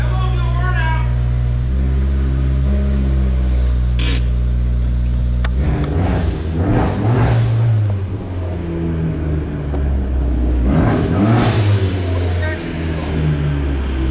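Engine of a 2016 Fiat 500 Abarth at idle, then revved several times in rising and falling surges, loud and close, with people talking over it.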